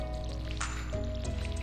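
Watering can being filled in the Stardew Valley farming game, a short splashy burst of water over steady background music, alone with no talk.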